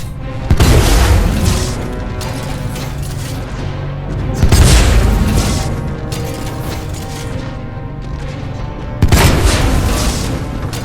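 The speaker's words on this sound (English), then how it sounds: "before the full weapon test bed explodes" Massive explosions in a video game as a full weapon test bed blows up: three heavy booming blasts, each a sudden loud onset followed by a long rumbling roar, with sustained low noise between them and no talk.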